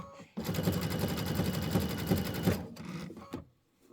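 A sewing machine stitches a bat embellishment in a fast, even, rattling run for about two seconds, then stops with a couple of brief clicks before silence.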